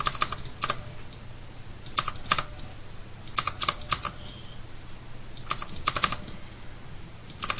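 Computer keyboard keys, chiefly arrow keys, pressed in short bursts of sharp clicks, with pairs and small clusters of taps spread across a quiet room background with a low hum.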